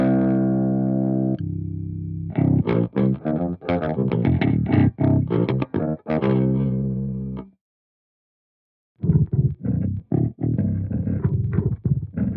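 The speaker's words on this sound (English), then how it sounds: "I can make it go down 1 octave." An electric guitar runs through an FAS AX8 pitch block set one octave down at a fully wet mix, giving a thick, lowered distorted tone: sustained chords, then a run of choppy notes, a short silence, and more picked phrases.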